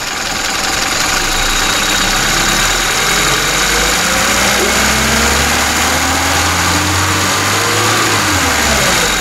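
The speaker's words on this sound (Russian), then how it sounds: "Плавненько добавляем обороты" A car engine fitted with a Solex carburetor, freshly adjusted, revving smoothly upward from idle; a loud, close, continuous drone climbing steadily in pitch.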